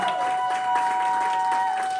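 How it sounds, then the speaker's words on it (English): A group applauds the boys at the results of a talent search show, steady clapping throughout the short stretch with a faint tone beneath. "Round of applause for them, please."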